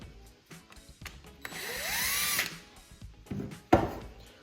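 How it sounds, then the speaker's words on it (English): A powered Phillips-head driver loosens screws on a 1984–87 Buick Turbo, a brief whirring spin that rises in pitch before a sharp clack and a few knocks nearby. "On this side, we'll need a Phillips head, so we'll switch this out. And we'll go ahead and loosen these up."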